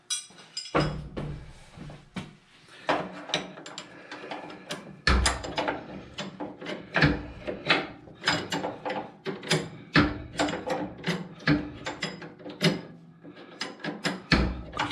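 Fine thread bolts being loosened by hand wrench during a clutch replacement on a 154 Low Boy tractor, with a steady series of close, sharp ratcheting clicks and metallic clanks in irregular bursts, no talking.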